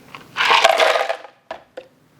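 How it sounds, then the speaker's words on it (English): Ice cubes tumble into a blender jar for a homemade milkshake, a dense clattering rush for about a second followed by two short separate clunks, close and fairly loud with no talking. "First, put the ice in."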